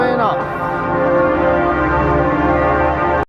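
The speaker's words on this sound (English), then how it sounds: "The bells are going off." Church bells ring out in a dense, sustained wash of overlapping tones, loud and continuous, outdoors near a church in Germany.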